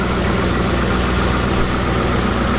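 Engine of a 2023 Dodge Charger Last Call idling with a steady, dense low rumble, loud and close, with no talking.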